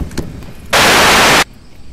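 A gun fires in the VR game Onward, a single loud harsh burst lasting under a second, abruptly cut off and surrounded by quieter background noise.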